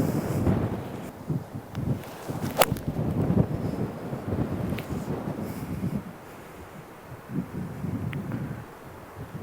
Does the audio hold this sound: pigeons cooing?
no